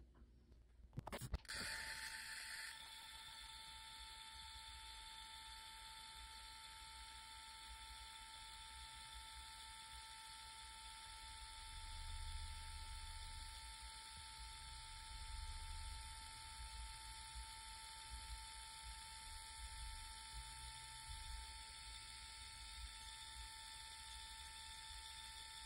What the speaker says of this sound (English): It takes usually about 20 seconds to send the picture from the phone to the printer.